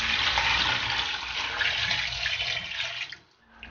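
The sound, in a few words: water poured into pressure cooker with pork ribs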